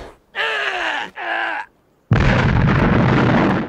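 An explosion in a TV drama bursts in as a sudden loud roar that holds as a sustained rumbling blast. It follows two short vocal sounds and a moment of silence.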